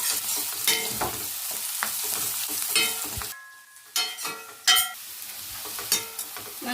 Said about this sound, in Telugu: ఉల్లిపాయ, పచ్చిమిర్చి మనకి లైట్గా ఫ్రై అంత వరకు ఫ్రై చేసేస్తుంది.